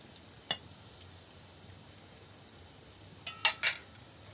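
A utensil knocks against a cooking pot as banana-stem curry is stirred after water is added: one isolated clink, then a quick cluster of three scraping taps over a quiet background.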